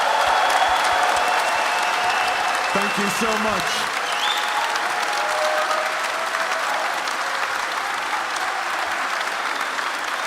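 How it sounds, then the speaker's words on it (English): Sustained audience applause fills the Union Chapel venue at a live event, loud and steady throughout, with a brief spoken thank-you over it near the start. "can we please give Mr. Ian Wright another round of applause?"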